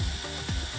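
A brief, close ratcheting click as a deep-socket wrench tightens a bolt while assembling a computer chair, a few quick mechanical clicks in under a second.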